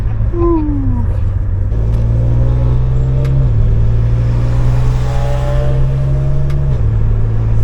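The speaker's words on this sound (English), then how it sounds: "car sounds much more aggressive" A BMW G80 car engine revs and drones steadily, its low rumble climbing in pitch and holding loud and close throughout.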